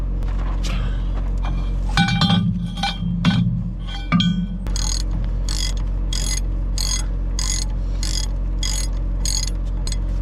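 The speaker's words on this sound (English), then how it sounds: "it's always a good idea to use a breaker bar on a ratchet, right?" A ratchet with a breaker bar works on tight bolts, giving a few heavy metallic clanks early on and then a run of evenly spaced ratcheting clicks, heard close over a steady low background hum.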